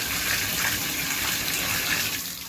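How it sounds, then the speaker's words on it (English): Water gushing from a repaired bathtub faucet after cartridge work, a steady loud stream splashing into the tub that eases slightly at the end, with no voices. "Water's working."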